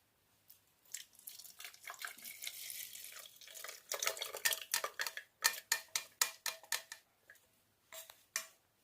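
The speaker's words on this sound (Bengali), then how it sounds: "চামচ দিয়ে নাড়বি" A spoon stirs masala tea in a pot, clinking against the metal sides in a series of sharp, rhythmic taps that grow louder and quicker toward the end, close and without talk.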